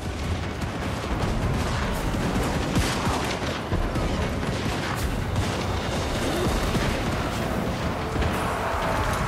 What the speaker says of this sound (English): And now they're firing.